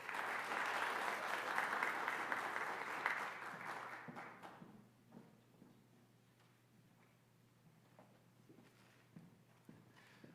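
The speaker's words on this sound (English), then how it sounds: "Let's give him another round of applause, folks." Enthusiastic applause from an audience at a nursing pinning ceremony, dense clapping for about four seconds that then fades to a few scattered claps and quiet room noise.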